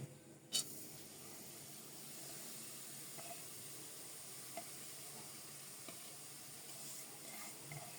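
Khesari greens go into a hot wok with a brief clatter, then a soft, steady sizzle hisses quietly and evenly throughout, with no voices.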